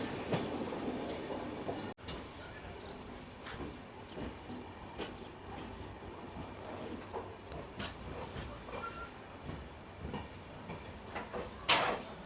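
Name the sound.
train passing underneath overhead electrical line work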